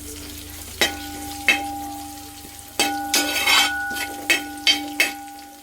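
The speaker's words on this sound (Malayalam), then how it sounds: "കുടംപുളി ആ എണ്ണയിലൊന്ന് വേവട്ടെ." Kudampuli fries in oil with ginger and garlic in a pan. A soft, steady sizzle runs underneath while a spoon scrapes and taps the pan in several short, sharp strokes, with no voices.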